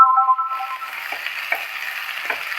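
Garlic, ginger and coriander leaves frying in a pan for chicken gravy, a steady close sizzle with occasional scraping stirs, following a brief electronic beeping at the start, with no talk.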